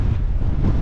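Wind buffets a microphone on the Snowdon Miners Track near a lake, a loud, continuous low roar and rumble with no other distinct sounds.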